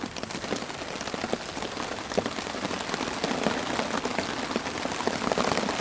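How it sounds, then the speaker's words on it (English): Steady, heavy rain drums on a tent overhead, a dense continuous patter with occasional louder drops and no voices. "It's been raining consistently since we got here. Lots of rain."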